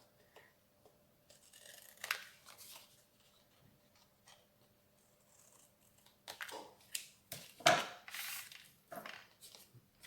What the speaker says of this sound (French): je coupe un peu en biais là